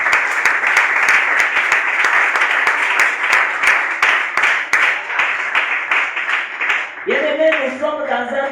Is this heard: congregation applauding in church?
yes